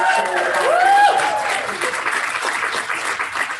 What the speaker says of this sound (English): So you guys help me give a warm round of applause to Sean and Tylene Loomer